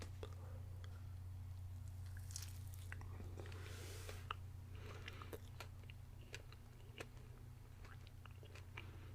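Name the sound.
biting and chewing Cinnamon Toast Crunch Stuffed Puffs marshmallows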